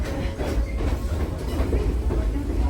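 A private electric railway train runs between Izumo and Matsue in Japan, heard from inside as a continuous low rumble with rhythmic rail clatter, steady and close throughout.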